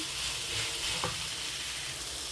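Steady hissing sizzle of chopped banana flower stir-frying in a hot pan, with a brief scrape of a spatula partway through, no voices.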